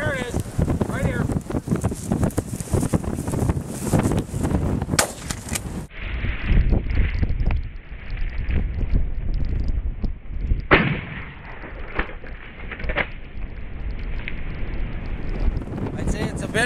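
Gusty wind buffets the microphone with a low, rumbling roar during an outdoor quail hunt with setter dogs, while a voice speaks intermittently over it.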